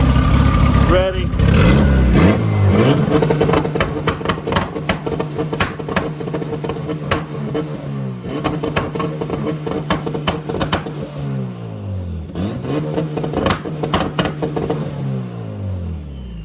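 Boosted Honda B18 engine revving hard, loud repeated sweeps up and down in pitch with a rasping, crackly edge, running through several rev cycles close to the listener; voices come in briefly near the start.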